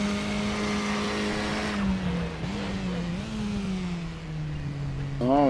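KTM X-Bow RR race car braking at the Red Bull Ring in RaceRoom, a loud high engine whine that drops in pitch as it slows, then rises again with a short rev at the end.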